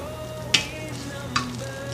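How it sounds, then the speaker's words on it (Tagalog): KFC chicken heating in a hot pan gives a soft, even sizzle, with two sharp clinks of a utensil against the pan, close but quiet. "painitin natin yung kawali together with the chicken from KFC"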